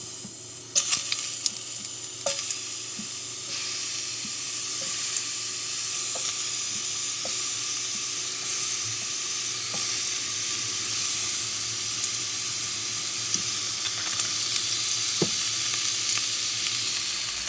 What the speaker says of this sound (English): But we're just going to fry these up